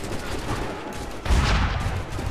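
Cannon fire in Assassin's Creed 3, a sudden heavy blast about midway that booms and rolls out over low background battle noise.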